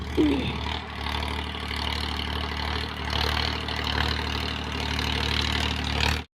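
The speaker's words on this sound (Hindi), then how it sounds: "तो भाई जोत रहे हैं ये हमारा खेत ट्रैक्टर वाले।" A tractor ploughing a farm field runs at a steady low engine drone with rhythmic mechanical chugging, heard close and continuous before cutting off abruptly at the end.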